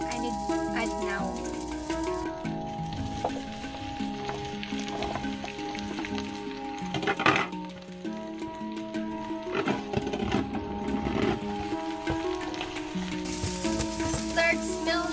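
Onion and ginger frying for a crab curry, a dense continuous sizzle with stirring clatter and a tonal hum from kitchen equipment mixed in, close and steady with occasional faint voice.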